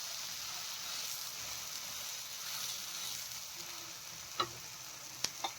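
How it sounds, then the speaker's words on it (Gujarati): Uttapam batter roasts in a pan over a low gas flame, producing a soft, steady sizzle close by, with a few sharp clicks and scrapes near the end. "આવી રીતે ધીમા ગેસે તેને સરસ રીતે શેકી લઈશું"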